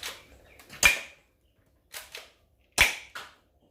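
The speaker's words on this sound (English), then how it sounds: "I'll shoot with the suppressor on it." A suppressed Glock 18 gel blaster fired in a few sharp, snappy shots with short gaps between them, close and crisp over otherwise quiet surroundings.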